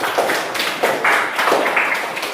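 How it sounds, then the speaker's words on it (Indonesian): Classroom applause for a student presentation group during a teaching session: a short run of fairly close, even hand claps in a steady rhythm, with no voices over it. "kita berikan aplaus untuk kelompok presentasi yang ini"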